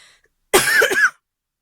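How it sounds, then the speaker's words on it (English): A single burst of coughing, close and loud, a couple of harsh hacks run together lasting about half a second, with silence before and after. "Sorry about the coughing, it is part of what I do."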